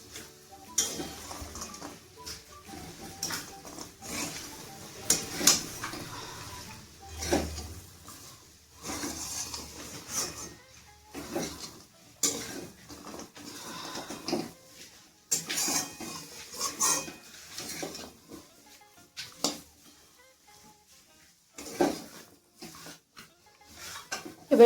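Gatte curry being stirred and mixed in a pot, with scattered clinks and scrapes of a spoon against metal coming in irregular bursts, fairly quiet and close.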